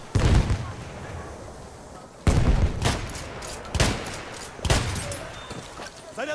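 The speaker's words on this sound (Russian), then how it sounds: "Граната! Поберегись!" Grenade blasts and gunfire in the video game Frontline: several sharp, loud bursts of fire and explosions spaced a second or so apart, with shouted voice lines from soldiers.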